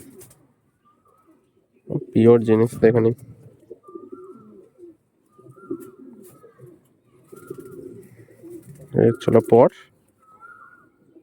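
Chennai breed racing pigeons coo softly in a short series of low murmurs, with someone talking loudly over them in two bursts.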